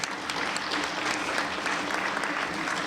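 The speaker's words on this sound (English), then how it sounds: "You can clap." An audience at a school National Honor Society induction breaks into dense, steady applause, many hands clapping continuously at moderate loudness for the whole moment.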